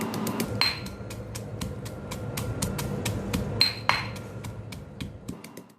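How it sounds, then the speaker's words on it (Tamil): Small garlic cloves, skins still on, are pounded for pad gaprao: a fast, steady run of sharp knocking strikes with a slight clinking ring, close and fairly loud, about twenty blows before it stops. "பூண்டு சேர்த்துட்டு பூண்டு முதலில் தட்டி எடுத்துடலாம்"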